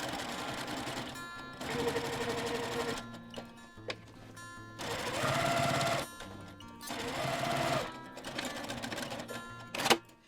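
A domestic sewing machine runs in several bursts while stitching a boho bag, with brief stops and short reverse back stitches between runs; the close mechanical whir starts and stops repeatedly with no talking.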